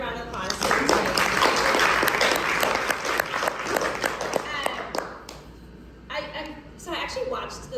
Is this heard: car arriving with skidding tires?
no